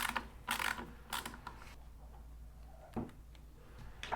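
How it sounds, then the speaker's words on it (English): A T20 Torx bit undoes a small screw in a G42/G80/G82 steering wheel. Quiet, sparse clicks and ratcheting ticks come in short bursts close by, with pauses between, and no talking. "you just want to get a T20 Torx bit to undo this little screw in here"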